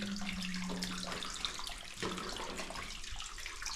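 Water flowing out of the mountainside inside a flooded, muddy abandoned mine, a steady broadband rush like a running tap that carries on throughout, fairly close and without speech.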